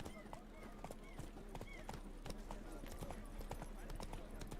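The horse Roach gallops in The Witcher 3, a steady run of hoofbeats at moderate loudness over game ambience and occasional music-like tones, with someone talking over it.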